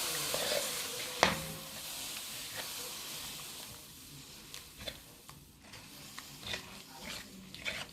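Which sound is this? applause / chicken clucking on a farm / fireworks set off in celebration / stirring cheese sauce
stirring cheese sauce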